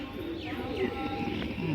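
Pigeons coo softly in short, low murmuring calls amid faint background noise and scattered chirps.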